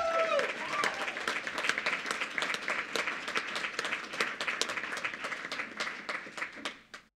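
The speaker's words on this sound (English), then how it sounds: "Now let me hear a loud round of applause." A school board meeting audience gives a loud round of applause, dense sustained clapping from many hands that continues steadily before tapering off at the end.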